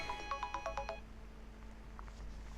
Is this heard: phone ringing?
yes